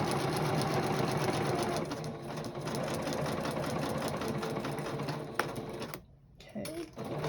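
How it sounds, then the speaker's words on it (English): A sewing machine runs a zigzag stitch along a fabric edge, whirring loudly and steadily for several seconds before a short pause and a brief restart near the end. "Go right up to that edge, needle down, and turn. And you can see that zigzag stitch along the edge there."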